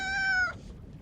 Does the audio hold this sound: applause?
no